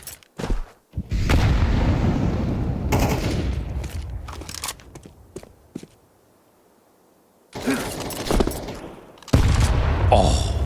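Grenade blast and bursts of gunfire in a Counter-Strike match at IEM Katowice 2025: loud, sharp volleys in several clusters with a quiet gap in the middle, then fresh firing resumes near the end.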